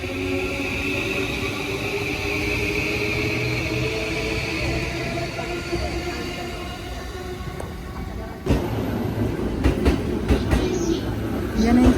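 A train heading from Soga Station toward Tokyo Disneyland in Japan gives a steady interior rumble and hum that grows rougher and louder partway through, with passengers' voices faint in the background.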